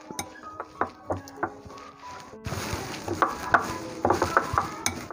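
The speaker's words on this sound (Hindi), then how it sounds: "अब इसकी मिक्सिंग कर लेते हैं" Utensil clinks and stirring in a bowl as spiced batter with green coriander, chaat masala and dried coriander is mixed for mirch pakora, a few sharp taps at first, then denser scraping and clattering.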